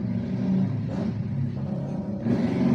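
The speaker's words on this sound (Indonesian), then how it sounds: "ada suara motor lewat" A motorcycle engine rumbles steadily nearby, a low droning sound that swells again toward the end as it passes.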